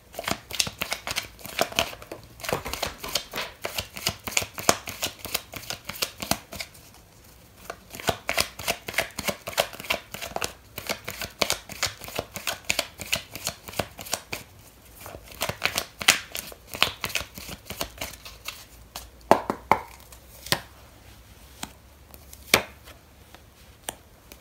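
A tarot card deck shuffled by hand, repeated rapid riffling bursts of flicking cards in close succession with short pauses between rounds, near and fairly quiet.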